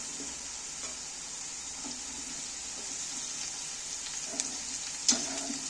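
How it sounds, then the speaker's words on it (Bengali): Potatoes fry in a pan with chopped onions added, producing a soft, steady sizzle with occasional stirring clicks and one sharper knock near the end, at moderate distance. "আলুটা দেখো অনেকটা ভাজা হয়ে গেছে এইবার আমি পেঁয়াজগুলো আলুর মধ্যে তুলে দিচ্ছি"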